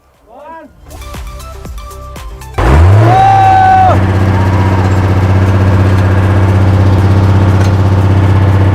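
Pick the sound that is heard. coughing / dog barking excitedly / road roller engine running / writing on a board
road roller engine running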